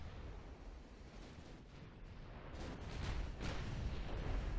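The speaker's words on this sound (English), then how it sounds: "That looks like we got more guns going off now." Heavy naval gunfire from dreadnought battleships in Ultimate Admiral: Dreadnoughts, a low, rumbling roar that builds and thickens toward the end as more guns go off, booming over a steady dull background.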